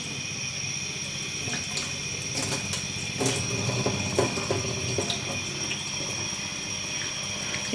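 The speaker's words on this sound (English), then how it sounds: "Just gonna run it under the water for a couple of minutes" Tap water runs steadily over rice grains in a small strainer for Jamaican rice and peas, a continuous close splashing hiss with faint clinks, no talking.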